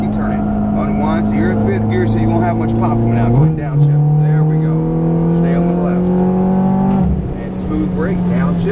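A Ferrari F430 F1 engine drones loudly from inside the car, then drops through two quick downshifts, each a sudden jump in pitch followed by a steady rising whine, while an instructor talks throughout.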